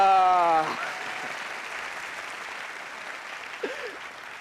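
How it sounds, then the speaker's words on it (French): An audience at a comedy show keeps up steady applause, with a voice heard over it at the start, then clapping that fades gradually into a quieter patter. "je pense qu'il mérite qu'on acclame très fort"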